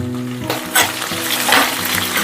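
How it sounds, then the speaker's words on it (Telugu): Four or five dried red chilies and slit green chilies hit hot oil, a sudden burst of loud sizzling and spattering that keeps crackling with a stirring scrape, close and with no talk. "ఇందులో ఒక నాలుగైదు ఎండుమిర్చి అలాగే ఒక ఆరేడు చీరికలు తీసుకున్న పచ్చిమిర్చి ఇవి కూడా వేసి వేయించేసుకోవాలి"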